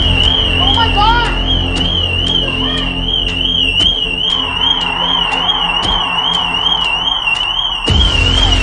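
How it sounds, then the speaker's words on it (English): A car alarm in a video game sounds continuously at a steady warbling pitch, loud and close throughout, with people talking excitedly over it. "Is that Noah's car alarm?"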